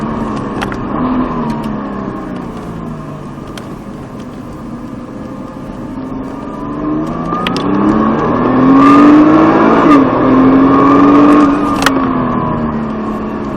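A Nissan GT-R on a sprint racing circuit drones loudly from inside the cabin, engine pitch dipping and then climbing as it brakes for a corner and accelerates away, with occasional sharp mechanical clicks.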